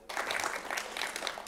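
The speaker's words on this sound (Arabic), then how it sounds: "تصفيقة حارة عليه." Audience applause from a live studio crowd at a children's show, a steady dense wash of clapping that starts abruptly and carries on without pause at moderate loudness.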